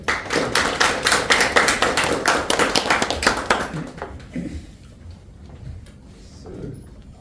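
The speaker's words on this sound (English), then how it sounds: "Please make a good round of applause for General Evaluator Sachin." A round of applause at a club meeting: a small group clapping, loud and closely spaced at first, then thinning out and fading after about four seconds into quieter room sound.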